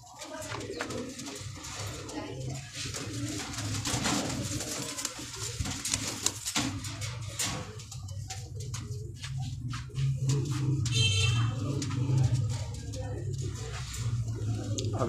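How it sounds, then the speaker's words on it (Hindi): Pigeons in a Pakistani pigeon club coo in low, repeated throaty calls close by, newly moved to a new place, with a person talking intermittently over them and some scattered clicks and rustles. "अभी नई जगह आए हैं ना तो सहम किए कबूतर"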